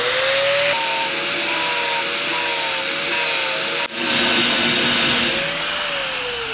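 An aluminum intake tube is ground down with a power grinder, giving a loud, continuous high whine with small pitch wavers and one brief dip partway through.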